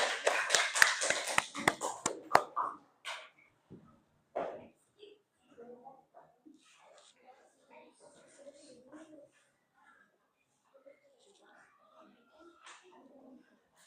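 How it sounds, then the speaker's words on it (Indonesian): Short burst of classroom applause for a student group coming forward, dense clapping for about two seconds, then fading into scattered taps, shuffling and quiet chatter of students in the room. "Kasih tepuk tangan untuk kelompok 2 yang mau maju."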